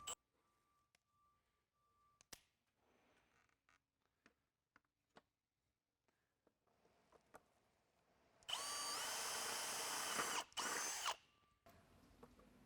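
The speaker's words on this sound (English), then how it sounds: "using a 3/8 drill bit, drill out the top. Do not go all the way through, just go through the top layer of plastic" A 3/8 drill bit bores through the top layer of plastic on a sensor assembly. After faint clicks and handling noises, the drill whirs loud and close in one sustained burst of about three seconds, then stops.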